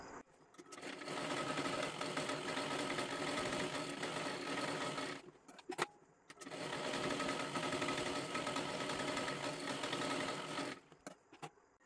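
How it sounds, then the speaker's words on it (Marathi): Sewing machine stitching a double seam on a girl's long one-piece dress, two sustained bursts of fast, even whirring separated by a short pause and light clicks. "आता परत तिथे शेजारी आपल्याला डबल शिलाई मारून घ्यायची आहे"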